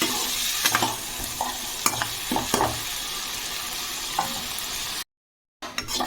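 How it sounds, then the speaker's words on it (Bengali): Cut vegetables for a shukto sautéing with spices in a pan over medium heat, a steady close sizzle broken by scraping stirs, with a brief silent gap near the end before the frying resumes. "সবজিটাকে মশলার সাথে মিডিয়াম হিটে রেখে আমি এটা ভালোভাবে কষিয়ে নেব"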